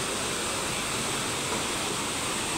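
Strong river current rushes near the waterfall at Cambugahay Falls, where a floating bamboo raft is pulled upstream: a steady, dense, close roar of water with no breaks and no voices.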